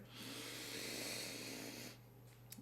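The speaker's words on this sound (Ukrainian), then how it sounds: "Ще один раз вдих" A deep breath drawn in during a slow breathing exercise before sleep, a long airy inhale lasting under two seconds, quiet and close, followed by a faint soft exhale and a small click.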